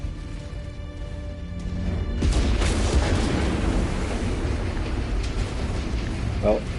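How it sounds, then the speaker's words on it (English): A mech exploding in a city battle in the video game MechWarrior 5: Mercenaries, a deep rumbling blast that swells after a quieter start and sustains as a roaring wash of debris and fire. "setting off a mech explosion in the middle of the city really helps."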